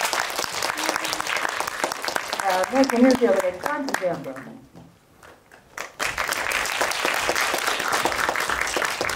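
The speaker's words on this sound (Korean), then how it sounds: "박수를 맞이해주세요." Audience applause welcomes actors onto the stage at a Korean barrier-free screening talk for Drive My Car, loud and sustained, with a host's voice announcing names partway through before the clapping swells again.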